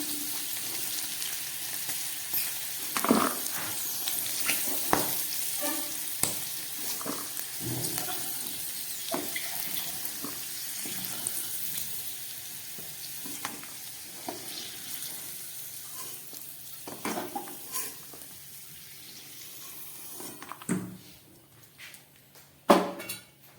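Potatoes, capsicum and peas fry in a pan, giving a soft, steady sizzle with scattered clinks and knocks, and a louder clatter near the end. No one speaks.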